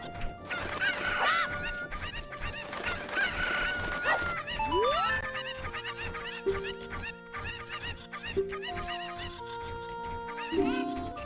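Chickens (Cuccos) cluck and squawk in the video game Ocarina of Time, a dense flurry of sharp, rapid clucks and crowing calls mixed with game chimes and rising effect tones, loud and busy throughout with no talk.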